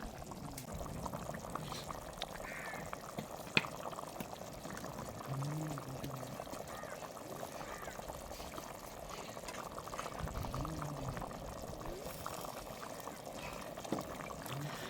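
Fish curry made with small fish simmers in a pot, giving a soft, steady bubbling that runs evenly throughout without any sharp breaks.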